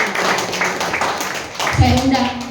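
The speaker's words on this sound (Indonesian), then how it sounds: "Kasih tepuk tangan buat Tuhan." A church congregation claps for God during a sermon, a burst of close, loud hand clapping with a voice speaking over it before the clapping tails off.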